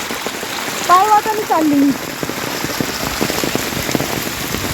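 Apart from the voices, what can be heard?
heavy rain while walking on a footpath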